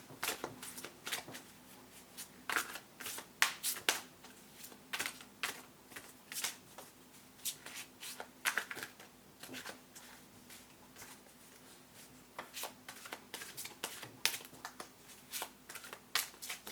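Psychic Tarot cards are shuffled by hand in a quiet room, a steady run of soft, papery riffles and taps repeating irregularly for many seconds, close and fairly faint, with no voices.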